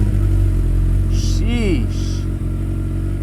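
A tow-yard motorcycle being ridden rises in a quick rev and falls back, over a loud steady engine and wind rumble, with a brief spoken exclamation.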